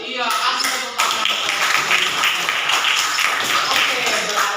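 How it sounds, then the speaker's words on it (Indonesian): A classroom of students claps for a correct answer, a dense, steady patter of many hands that starts abruptly and carries on for several seconds, with voices mixed in. "kasih tepuk tangan"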